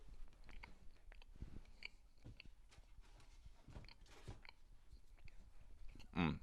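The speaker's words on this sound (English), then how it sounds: "I need to chew a lot." Someone chewing food close to the mic, with soft wet crunches and bites repeating irregularly at low level, plus a few faint clicks and a brief louder burst near the end.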